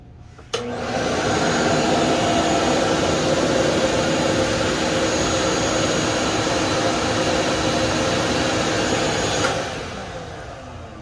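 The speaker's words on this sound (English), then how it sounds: "next is going to be a 6 horsepower shop vac" A 6 horsepower shop vacuum powered through a 1500 W pure sine wave inverter starts with a sharp click, then roars steadily at close range with a loud whooshing motor drone before winding down near the end.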